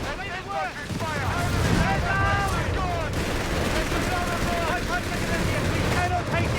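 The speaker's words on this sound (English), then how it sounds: "Infantry fire!" Infantry gunfire in Company of Heroes 3, a dense, continuous crackle of rifle and machine-gun shots mixed with battle noise and a shouted voice.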